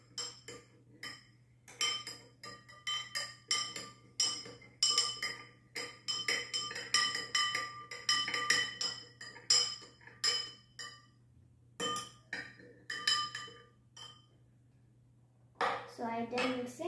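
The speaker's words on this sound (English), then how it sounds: "Now we'll mix it well, so that the salt will dissolve." A spoon stirs salt into water in a glass, giving a long run of rapid clinks and taps against the glass, close and fairly loud with short pauses and a low background hum.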